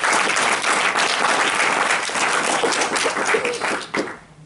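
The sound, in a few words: audience applause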